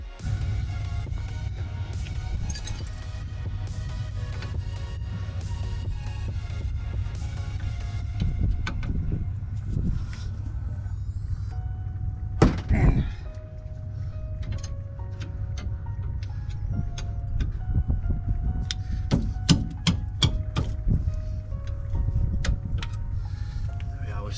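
A wrench loosens the brake caliper bolts on a Renault Clio IV RS during a brake job, with repeated ticking clicks over a steady low hum and one louder knock near the middle.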